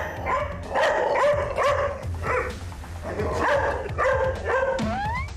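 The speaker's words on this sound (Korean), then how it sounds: "그런데 유독 한 제작진을 향해 앞에서 집요하게 짖어대는 녀석." A Jindo dog barks persistently and loudly at close range, a rapid series of sharp repeated barks in bursts with brief pauses.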